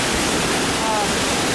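Roaring broadband rush of a large waterfall in California, heard from its base, loud and continuous with no pauses.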